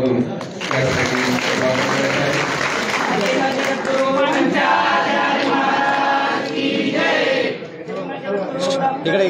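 Crowd clapping loudly at a felicitation ceremony for a future Kashi Jagadguru, steady applause mixed with chatter and voices over a loudspeaker throughout.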